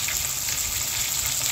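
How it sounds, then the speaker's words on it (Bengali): Fish frying in oil in a pan in a home kitchen, a steady close hiss and sizzle throughout, with no talking. "চলো তো মাছটা ভেজে নিচ্ছি"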